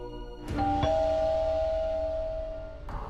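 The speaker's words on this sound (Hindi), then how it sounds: "एक डोरबेल की आवाज आई" A doorbell rings once, its electronic chime sustaining clearly for a couple of seconds before cutting off, with a soft knock at the end.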